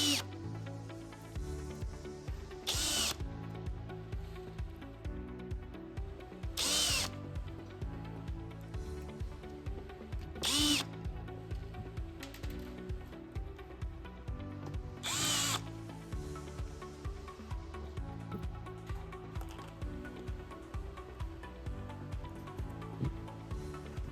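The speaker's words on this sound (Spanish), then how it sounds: "el destornillador de estrella o el atornillador." A power screwdriver whirs steadily while driving screws into furniture being assembled, a sustained motor drone with about four short high-pitched bursts at regular intervals, close and fairly loud, with no talking.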